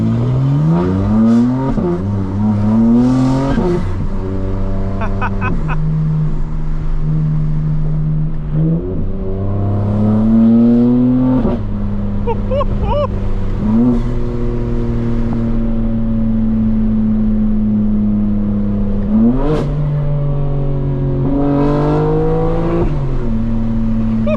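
A 2025 BMW M4 engine pulls under way on a road drive, revving up and down in repeated climbing surges and steady cruising drones, loud and close throughout with no talking.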